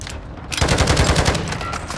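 Call of Duty assault rifle fire erupts after a brief quiet start, a rapid, steady automatic burst that stays loud and close with no voices over it.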